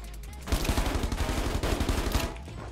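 Rapid automatic gunfire from the Rules of Survival battle royale game crackles in a dense, loud burst of closely spaced shots lasting about two seconds, with quiet moments before and after.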